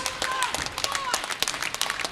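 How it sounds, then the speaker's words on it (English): Brief burst of clapping and cheering from a wrestling crowd at an indie show, sharp individual claps over a noisy hall with a couple of whistles and shouts. "Crowd coming alive here for Wayne Adkins."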